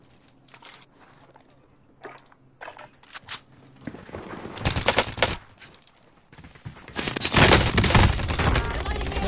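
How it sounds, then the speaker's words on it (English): Bursts of gunfire in a tactical video game, scattered shots early then dense, loud volleys and rapid automatic fire building toward the end, with faint game sounds between bursts. "Under fire here."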